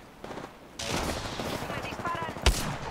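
Rapid automatic gunfire in the video game Apex Legends, a loud burst of dense, rattling shots kicking in partway through and continuing to the end, with one sharp louder crack near the close and a voice briefly speaking.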